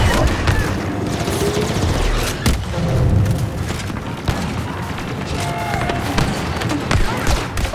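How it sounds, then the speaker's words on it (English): Flash grenades bursting amid constant gunfire in the Star Wars Battlefront 2 shooter, loud repeated blasts and rattling shots packed densely throughout, with a voice speaking over the battle noise. "Flash grenades."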